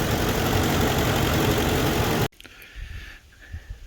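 A 2004 Ford F-150 with the 5.4 engine idling with an exhaust manifold leak, a loud steady engine rumble that stops abruptly partway through, leaving quiet background noise.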